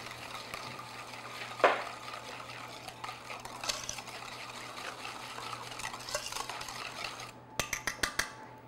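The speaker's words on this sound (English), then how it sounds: "So just whisk, or you could just stir it all together." Buttermilk and wet cake-batter ingredients being whisked in a bowl, a soft rhythmic scraping and swishing with a few louder clinks and a burst of quick metallic taps at the end.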